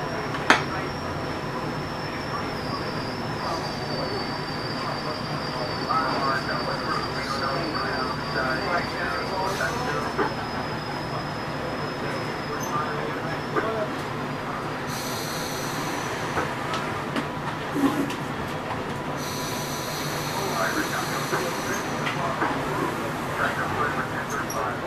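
Rail Runner passenger train rolling toward Santa Fe, with a steady interior rumble and rattle of the rail car, a faint high whine, and an onboard announcement-style voice speaking over the continuous train noise.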